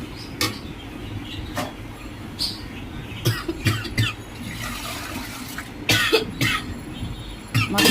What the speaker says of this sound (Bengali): মশলার কষানোর ধকে কাশি এসে গিয়েছে